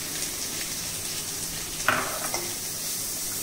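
Cabbage drops into a hot pan with green chillies for veg momo filling, giving a steady sizzle and frying hiss with a brief clatter of utensil on pan midway.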